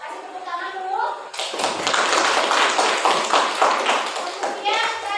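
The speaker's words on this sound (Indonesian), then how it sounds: "Kasih tepuk tangan dulu." A classroom of students claps together, a dense burst of applause that swells and carries steadily for several seconds after a teacher's voice, with the voice returning faintly at the end.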